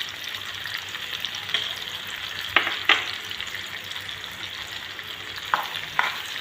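Mango and dates being stirred together in a pan, with a steady low sizzle and a few sharp spoon scrapes and clinks against the pan, with no one talking.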